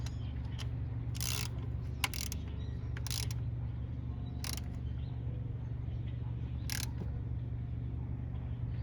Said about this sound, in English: We're going to tighten it up with the ratchet now.